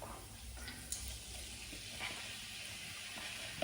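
Chopped onion sizzles in a hot pan, a steady broadband hiss and crackle that stays even throughout, with a few faint clinks and no voices.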